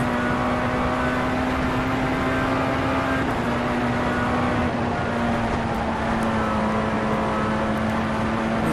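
A Tatuus F3/F4 open-wheel race car lapping in the rFactor 2 racing simulator, its engine a loud, constant high drone with a steady pitch and slight wavering, filling the whole stretch alone without voices.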